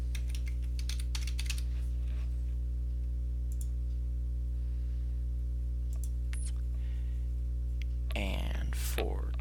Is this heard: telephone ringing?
no